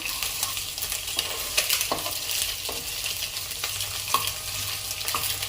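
Egg fried rice frying over a high flame, with a steady close sizzle and repeated light clicks of stirring running through the whole stretch.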